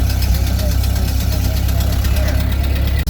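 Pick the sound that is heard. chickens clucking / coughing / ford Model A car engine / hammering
ford Model A car engine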